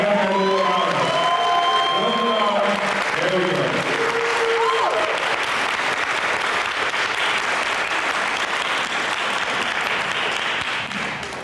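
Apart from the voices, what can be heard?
audience applause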